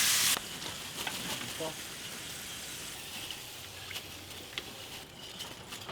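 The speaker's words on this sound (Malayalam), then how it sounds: "കുറച്ച് ഇഞ്ചി വറുത്തെടുക്കാം" Ginger frying in hot oil, a steady close sizzle and crackle running the whole time with occasional stirring scrapes, loudest in a brief burst at the very start.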